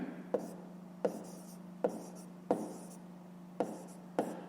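A pen writes out a fifth-grade maths exercise on paper in six quiet, evenly spaced scratchy strokes, each with a sharp start that fades quickly, with no voice over them.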